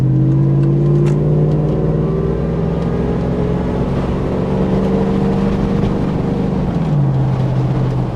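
A supercharged Hummer H2's engine drones loudly and steadily with a high supercharger whine riding on top, the pitch swelling and dropping as it accelerates and eases off.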